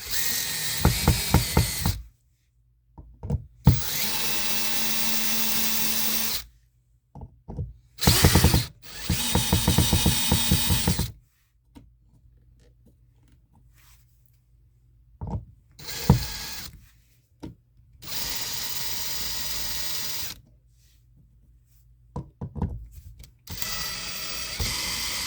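A power drill drives screws into a USB electrical outlet in short bursts, whirring and ratcheting close up with silent pauses between runs.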